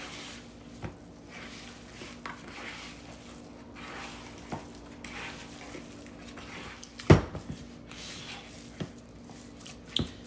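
Meatloaf mixture with egg is worked by hand in a bowl, giving quiet wet squishing and squelching sounds with occasional soft knocks against the dish, fairly faint and close.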